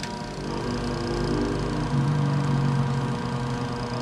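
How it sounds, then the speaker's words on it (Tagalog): A spin dryer's motor runs with its cover closed, making a steady, close humming drone with a low vibration that holds for several seconds, with no talk over it. "pag ang cover ng spin dryer ay nakasara, so umaandar po yung kanyang motor"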